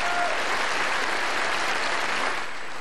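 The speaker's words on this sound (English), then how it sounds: "the UH Warriors were introduced to a burst of applause" A dense burst of applause in the Hawaii State Senate chamber as the UH Warriors football team is introduced, loud and sustained throughout, fading slightly at the end.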